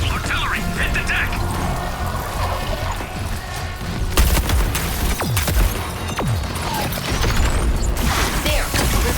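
Artillery fire in a war shooter game: a dense, loud barrage of booms and sharp cracks over continuous rumbling battle noise, with heavier impacts near the middle and end.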